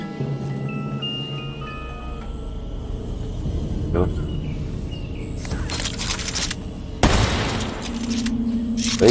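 Light machine gun fire in Call of Duty: Black Ops III, with scattered shots and a couple of loud bursts near the end over layered game noise and background sounds.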